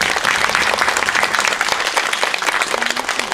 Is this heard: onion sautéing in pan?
no